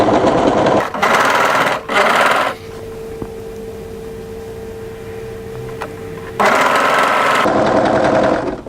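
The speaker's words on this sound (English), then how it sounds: "we're going to overrun the overlocking and then chain off" An overlocker stitches a jacket seam in fast, loud mechanical bursts, then drops to a quiet hum with a faint steady tone before whirring again as it chains off past the fabric edge; no one speaks.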